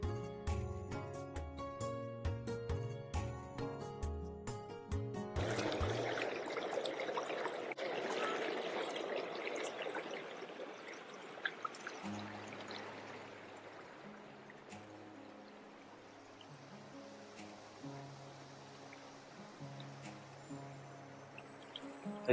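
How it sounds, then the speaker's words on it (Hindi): A small river flows beside a hill road between Champawat and Lucknow, a broad steady rush of water that rises loud for several seconds between stretches of music playing over it. "एक बहुत ही प्यारी सी नदी दिखाई दी, उसके पास आ गए हैं।"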